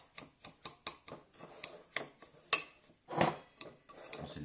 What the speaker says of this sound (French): on mélange bien le beurre avec le biscuit